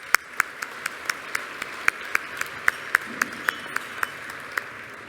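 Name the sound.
audience applause for sponsors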